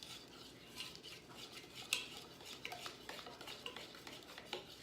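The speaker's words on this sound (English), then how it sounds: "so we're gonna mix this all up, just like this." A spoon stirs Kool-Aid pie filling in a bowl, giving soft irregular scraping and clinks at close range, quiet apart from one sharper knock.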